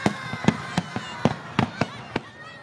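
Fireworks for Canberra's 100th birthday celebration: a rapid string of sharp, loud bangs, roughly a dozen irregular cracks in quick succession with faint crackling between them.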